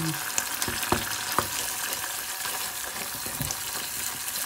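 Cream and food sizzle and fry in a pan with a little oil, a steady close crackle broken by a few sharp clicks of utensils, with no voices over it.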